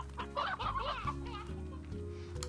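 Stony hens from the Slime Rancher video game cluck in a busy, chattering burst over a low droning game background, the clucks dense at first and then thinning out.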